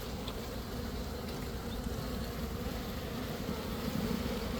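Package bees drone in a continuous, even buzz from a hive, a steady hum that holds at constant strength the whole time, quiet and fairly close, with no talking.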